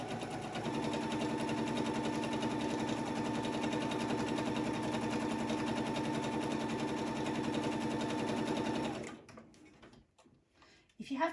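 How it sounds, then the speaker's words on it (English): A sewing machine runs steadily for about nine seconds, stitching a hobby bag with a continuous rhythmic whir, close and loud, then stops, leaving a few faint handling clicks. "and then put down with this machine before it will let you sew, and then off you go again"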